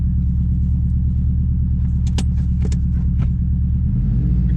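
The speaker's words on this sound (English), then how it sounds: "I know this car is really loud and dirty." A loud, dirty car engine idles with a deep, rough rumble, close by, with a few clinks over it and a shift in tone near the end, after a transmission swap.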